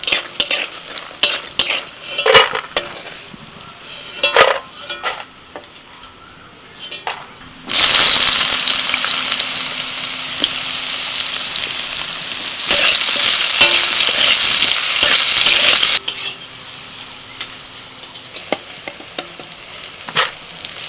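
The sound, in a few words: frying lentil dumplings and eggplant in oil in a wok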